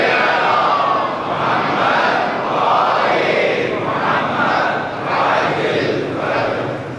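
A large religious gathering reciting salawat together in unison, many voices rising and falling in loud rhythmic waves of collective chanting throughout.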